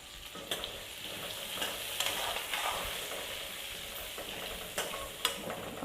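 Chopped onions sizzle and fry in a kadai with leftover masala for chicken curry, a steady close crackling hiss broken by the scrape and clack of a stirring spatula.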